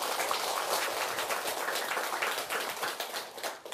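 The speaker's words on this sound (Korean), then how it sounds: "박수 한번 드리세요" Dense, steady applause from a live audience at a Buddhist monk's lecture, many hands clapping together in a continuous broadband patter that holds evenly for a few seconds without any voices.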